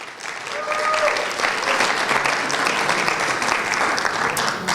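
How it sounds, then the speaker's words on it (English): Applause from the audience of a Dreamgirl pageant-style show honoring contestant Poonam Gidwani: steady, dense clapping that swells and holds for several seconds at an even level. "Round of applause for her"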